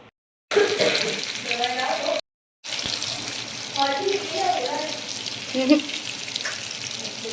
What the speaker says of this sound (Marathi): अजून बाकीचे फ्राय करते